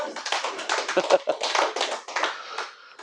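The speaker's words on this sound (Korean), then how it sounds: "박수 좀 쳐주세요, 진짜." An audience claps at a Korean religious lecture, a short burst of uneven hand claps mixed with a voice talking over them, fairly close and moderately loud for about three seconds.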